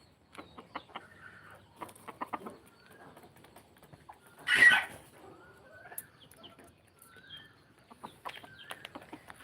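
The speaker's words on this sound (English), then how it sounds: "Because this rooster here" A rooster clucks in short bursts with scattered bird calls, and one louder, harsh squawk rises midway before quieter clucking resumes.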